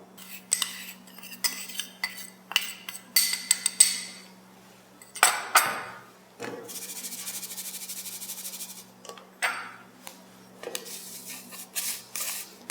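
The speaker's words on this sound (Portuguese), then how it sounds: "lembra que eu tenho que peneirar o meu glaçúcar" Powdered sugar is worked through a metal sieve with a series of close scraping, tapping and clinking strokes coming in irregular bursts, separated by short quiet gaps.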